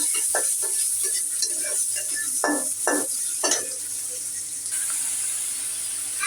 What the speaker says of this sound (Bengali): এই তেলের মধ্যে একটু পেঁয়াজ কুচি দিয়ে দিচ্ছি।